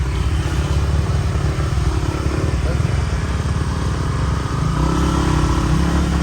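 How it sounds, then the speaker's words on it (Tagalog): A motorcycle engine labors loudly and steadily up a rough road to Agos River in Infanta, Quezon, its low throttled drone close up throughout, with some clatter and voices mixed in. "Hirap ang motor."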